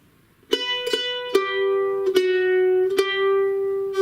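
A mandolin picks out a short bluegrass melody from Banks of the Ohio: six bright, ringing notes, the last few held and sustained, played alone and close.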